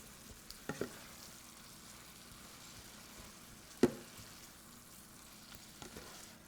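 Pasta with garlic and vegetables is stirred in a pan, a faint soft sizzle under quiet scraping, with a few light knocks of the utensil against the pan.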